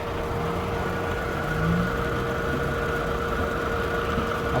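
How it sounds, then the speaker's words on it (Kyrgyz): A 2007 Daewoo Matiz engine idles with the hood open, giving a steady, even mechanical hum with a faint tonal whine and no pauses. It is moderately loud, close by, and no one talks over it. "Так, мынакей моторун иштегени нормальный эле, ровно эле."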